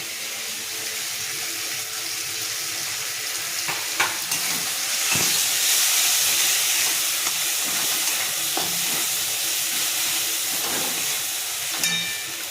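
Ground cumin, coriander and chili powder with grated coconut sizzle and fry steadily in a pan for taro greens with prawns, with occasional clinks and scrapes of stirring close by.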